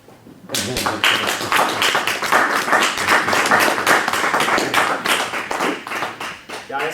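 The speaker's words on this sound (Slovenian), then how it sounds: "Jaz predlagam, da bo lepo zaplaskamo vsi." Audience clapping at a book presentation in a library, a sudden burst of dense, close applause from a small room that holds steady for several seconds before easing slightly, with a few voices underneath.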